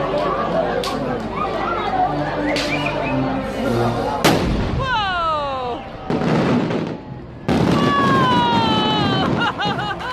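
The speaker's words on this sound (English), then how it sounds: "this dramatic explosion was actually caused by an underwater blasting operation carried" A loud underwater blasting explosion in Finland, a sudden heavy boom with a rumbling, debris-filled roar that rises over background voices and continues as bursts of chatter and shouting amid dense noise.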